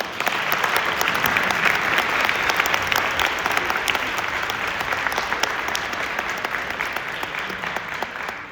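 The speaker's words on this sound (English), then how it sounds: "let's give them in absentia a round of applause" Sustained applause from an audience at a high school honor band concert, dense steady clapping from many hands that stays even and fairly loud throughout, with no talk over it.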